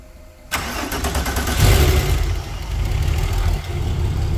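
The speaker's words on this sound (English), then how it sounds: "I really love the 12 valve VR6 sound." A 12-valve VR6 in a Mark I car cranks and fires with a sharp catch, then settles into a steady, throaty idle with a brief swell of revs, loud and close with no talk.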